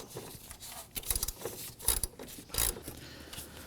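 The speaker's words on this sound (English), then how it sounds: "remove this 10mm bolt that holds the bracket for the AC lines onto the radiator" A ratchet turning a 10mm bolt on the AC line bracket of a 2016-2020 Kia Sorento 2.4L radiator, sounding as a few short clicking, rasping bursts close by amid quiet pauses.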